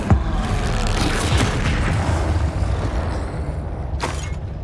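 Fiery spell explosions from Confringo and Incendio in Hogwarts Legacy: a sharp blast opens into a loud, rumbling roar of fire and debris that sustains, with another burst near the end, and no talking.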